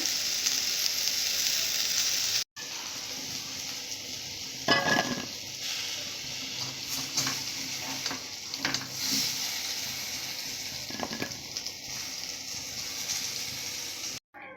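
Potatoes fry in hot oil with a steady, close sizzle and a few stirring clatters; a brief cut interrupts the crackle partway through.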